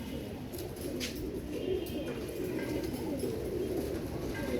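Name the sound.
Royal Teddy pigeon cooing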